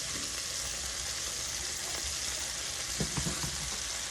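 Steak frying in a pan with salted butter and rosemary, a steady dense sizzle throughout with a few sharper crackles and pops near the end, close and continuous with no talking.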